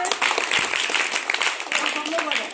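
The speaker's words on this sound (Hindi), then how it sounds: "तालियां।" Schoolchildren in a classroom clap in a quick, dense burst of applause, loud and close, lasting a couple of seconds with voices mixed faintly into the clatter.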